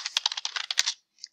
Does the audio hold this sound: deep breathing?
no